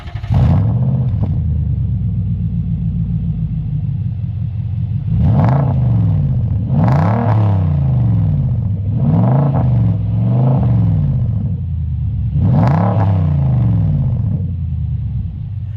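Vehicle engine revving through a Redback Extreme 3-inch catback exhaust with two 5-inch round muffler resonators, a deep loud idle rumble punctuated by several sharp throttle blips that rise and fall.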